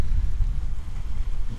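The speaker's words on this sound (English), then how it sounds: "I'm getting battered by the wind here" Strong wind buffets the microphone in a steady low roar, gusting and dipping throughout, close and loud with no voices.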